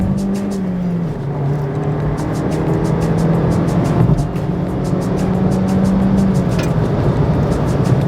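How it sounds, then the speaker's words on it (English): A 2015 Mazda 2 with a six-speed manual gearbox pulls up a motorway on-ramp, its engine drone rising and falling through a gear change, loud and close with steady road and wind noise underneath. "it accelerates, it gets up to speed, but I wouldn't call it fast"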